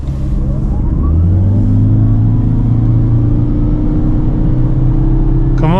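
A 2022 Toyota Corolla Hybrid in sport mode accelerates hard from a standstill, its engine droning loud and steady with a rising whir throughout, and a brief sharp sweep near the end.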